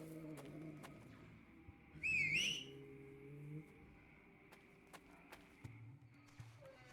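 A short, bright whistle in the Lost Horizon video game, used to lure a tiger, rises and wavers briefly mid-clip over a quiet background with faint scattered game sounds.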